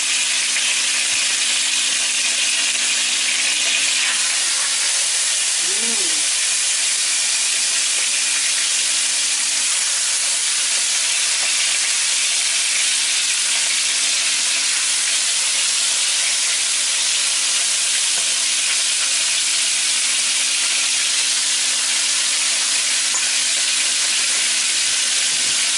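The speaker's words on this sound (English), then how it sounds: "You hear that sizzling? That's the kind of sizzling you want to hear." Chicken pieces brown in hot oil for brown stew chicken, giving a steady, dense sizzle and hiss that runs unbroken and close throughout, with no talk over it.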